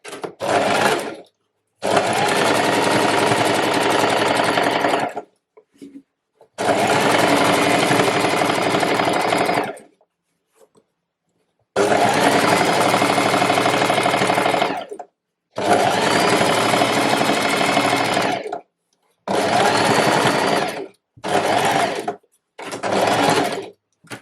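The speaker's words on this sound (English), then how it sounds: "I'm just going to sew as close as I can to the top of that fold" A sewing machine stitches a trouser hem close to the top of the fold in several loud, close bursts of rapid whirring, separated by short silent pauses.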